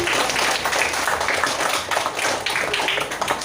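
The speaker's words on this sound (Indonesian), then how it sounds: "Beri tepuk tangan untuk Dopi." Schoolchildren in an elementary classroom clap together in a steady, dense round of applause that holds at even loudness throughout, with no talking over it.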